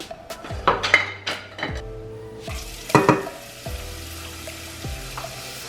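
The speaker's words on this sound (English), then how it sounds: "I'm gonna add a little bit of oil here. So first we're gonna add our onions." Onions dropped into oil in a pan over medium-low heat, a faint sizzle under several sharp metallic clinks and taps of utensils against the pan, close and intermittent.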